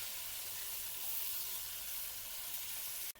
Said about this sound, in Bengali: এবার পেঁয়াজগুলোকে নেড়েচেড়ে নরম করে ভেজে নেব